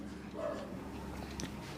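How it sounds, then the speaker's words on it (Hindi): A dog barks faintly somewhere in the background, a few soft, muffled barks buried in steady room noise. "यहाँ थोड़ी सी कुत्ते भौंकने की आवाज आती है, उस पर कॉन्सेंट्रेट ना करें।"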